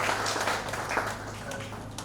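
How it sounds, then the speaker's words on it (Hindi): Audience at an award and honour ceremony applauding in tribute to the army, a steady wash of clapping from a crowd, moderately loud, with faint voices underneath. "एक बार जोरदार तालियां सेना के सम्मान में"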